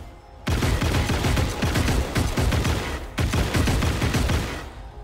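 Energy weapon gunfire in the shooter game Hawked rattles in a rapid, sustained burst of loud, close shots, with one brief break before the volley resumes and then trails off.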